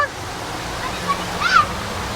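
Rushing, splashing water hisses continuously as vehicles push through a flooded street during rain in Vijayawada, with a couple of brief high tones cutting in near the end.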